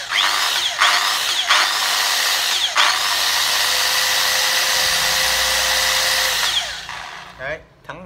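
A Makita cutter with a 105 blade spins up to a loud whining drone, runs steadily for several seconds, then its brake stops the blade quickly, leaving brief handling noises at the end. A voice speaks faintly over the machine.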